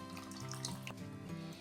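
Warm milk-and-vinegar mixture is poured through a strainer into a bowl, giving a soft, continuous trickling and splashing of liquid, quiet and close, with a faint tonal hum underneath.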